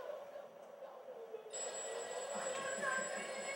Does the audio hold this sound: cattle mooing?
no